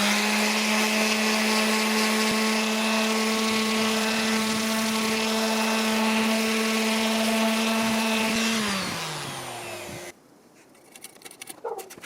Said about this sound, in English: Now, a little sanding with 220.